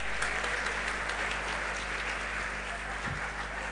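Steady, dense applause from a crowd at an Islamic religious lecture, a continuous wash of clapping with no voices standing out.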